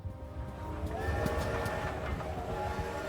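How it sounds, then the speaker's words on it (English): A freight train in a horror video game approaches from the distance, a low steady rumble of wheels with a faint drawn-out whistle-like tone rising over it. "In the distance, you can hear the noise of an approaching train."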